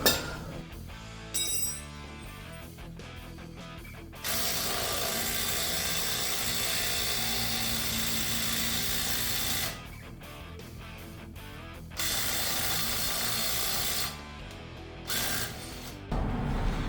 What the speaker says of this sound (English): I'll put it on a breaker bar just because that can feel when it stops.